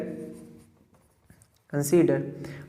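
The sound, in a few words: writing on a board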